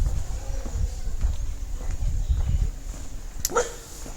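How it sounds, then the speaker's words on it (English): Stray dogs barking on a street in North Goa during the monsoon, scattered yips and barks at mid distance over steady low street rumble, with a sharper whimpering cry near the end. "Stray dogs is also a common thing here in Goa."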